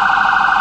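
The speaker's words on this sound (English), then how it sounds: "So then you got, you know, air horn, there's that, siren, and then so there's whale, yelp" A vehicle siren sounds for a brief moment as one loud, steady electronic tone with a slight warble, close and alone.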